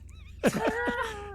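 A single sneeze-like burst breaks out over a background of game music and sound effects, close and fairly loud, with bright tonal notes ringing on afterward.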